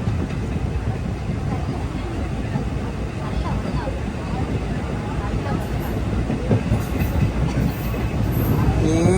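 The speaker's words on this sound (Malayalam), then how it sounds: "ട്രെയിനിപ്പം നെടുമംഗലം ജംഗ്ഷൻ റെയിൽവേ സ്റ്റേഷനിലേക്ക് ഇതാ എത്തിക്കൊണ്ടിരിക്കുകയാണ്" A passenger train rolls toward Nedumangalam junction railway station through rice paddy fields, heard from on board as a steady, loud rumble of wheels and carriages that swells slightly toward the end.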